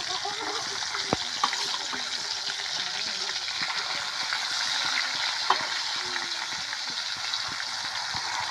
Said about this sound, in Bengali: এই যে মা এখন ভেজে নেবে এগুলোকে